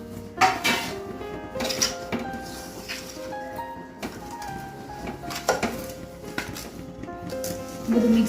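Flours and other ingredients for methi pak being mixed together in a pan, with steady scraping and clinking of utensil against metal, close and moderately loud throughout, with no talk.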